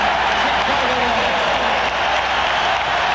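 Basketball arena crowd at Game 2 of the 1992 NBA Finals, Portland at Chicago, roaring and applauding loudly and continuously, with a commentator's voice faintly underneath.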